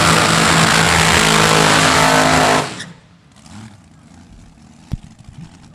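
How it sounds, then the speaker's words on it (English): A supercharged dragster roars loud and near at a drag strip, then cuts off abruptly after about three seconds. Fainter crowd and track noise follows, with a brief sharp bang near the end. "The Loud American Supercharged Dragster out of that Proud American Motorsports stable"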